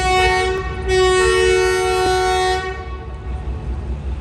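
Loud, sustained horn blast from a diesel locomotive at a Pakistan Railways engine shed, holding for about two and a half seconds before cutting off, leaving a low idling engine rumble underneath.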